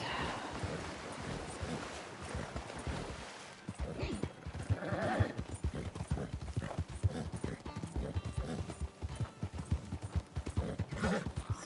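A horse gallops in the Western open-world game Red Dead Redemption 2, with loud, rapid rhythmic hoofbeats pounding steadily over dirt along with faint tack jingling.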